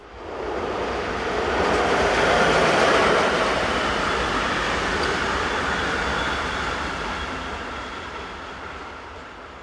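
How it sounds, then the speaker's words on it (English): A short westbound freight train of refrigerated containers passing on a Swiss main line near Olten, a steady loud rumble and rolling wheel noise that builds to a peak and slowly fades, no voices. "Another typically short train of refrigerated containers heads west."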